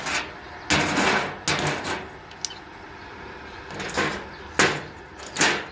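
A thick iron workpiece being turned over on a welding bench gives several loud metallic clanks and scrapes at irregular intervals, close by, with low workshop noise between them.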